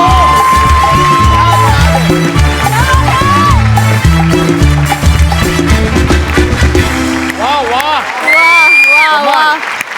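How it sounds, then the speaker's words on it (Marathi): Studio audience at a Marathi comedy show bursting into loud, sustained applause and cheers over a continuous musical backing, with whoops rising near the end. "जोरदार टाळ्या पुन्हा एकदा"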